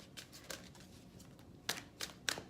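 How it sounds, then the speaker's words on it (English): Soft, quiet tarot card shuffling with several brief riffling bursts, the last few sharper and closer together. "I've been busy shuffling the Romance Angel cards for you guys"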